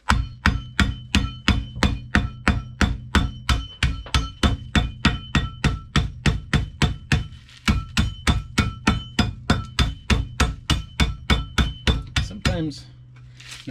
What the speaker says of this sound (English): I use my pizza cutter as a hammer.